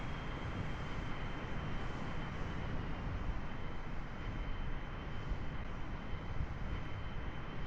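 Aircraft engine throttled back on approach to a runway in Kerbal Space Program, a steady broadband drone holding level throughout with no talking.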